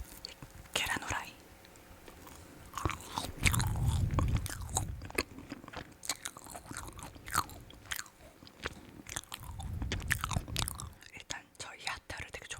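Frozen Haribo heart Starmix jelly candies bitten and chewed close to the mic, crisp crunchy bites followed by wet, sticky chewing in bursts, with soft whispering between mouthfuls.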